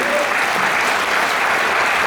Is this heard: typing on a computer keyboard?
no